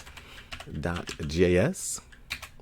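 Fingers tap on a computer keyboard while a voice speaks over it, scattered light clicks filling the gaps around the talking.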